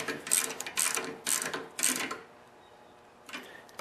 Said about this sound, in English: And I'll tighten up both bolts evenly.